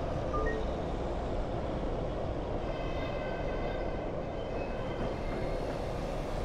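A tram climbing a hill at full power in Tram Simulator Urban Transit, a steady rumbling drone of motor and wheels on rails with faint metallic whine, continuous and fairly quiet throughout.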